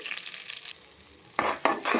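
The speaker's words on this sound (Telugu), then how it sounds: "బాగా కలుపుతుంది చూస్తున్నారా పోపు అయితే ఇలా ఉండాలండి" A tempering of curry leaves for ginger chutney sizzles in hot oil as it is stirred, with a quieter spell and then two loud bursts of frying near the end.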